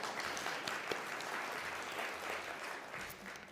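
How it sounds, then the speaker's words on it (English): Audience applause at an agroecology conference, a steady dense wash of many hands clapping that holds at an even level throughout, with no voices rising above it. "We need to clap."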